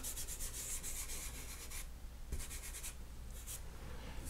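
A fingertip blending pastel on sanded paper makes a soft, gritty rubbing, close and quiet, in a steady stroke that pauses briefly before resuming in short swipes.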